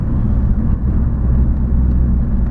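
Honda Civic Type R FN with a resonated Cobra sports exhaust accelerating at full throttle, giving a steady, close, droning engine roar with no talk over it.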